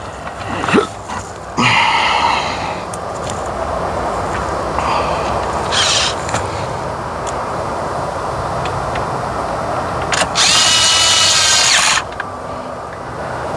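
A power drill drives screws into the dash gauge cluster of a 2004–2008 Ford F150, giving short whirring bursts separated by pauses and small handling clicks, loud and close.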